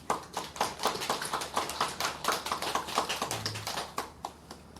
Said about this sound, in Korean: 우리 찬양대를 위해서 박수 한번 하겠습니다